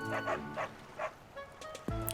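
A dog barks several times in Fire Emblem: Three Houses, short moderately loud yaps in quick succession, followed by a brief whimpering sound and a game effect.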